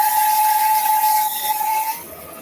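A bandsaw cuts through a clamped log with a steady high whine and an airy hiss, holding evenly and then easing off near the end.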